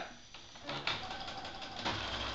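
A sewing machine stitches a blind hem steadily nearby with a soft, uneven bumping rhythm as the stitches hop, fairly quiet and without talk.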